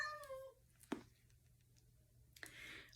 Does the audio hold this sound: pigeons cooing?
no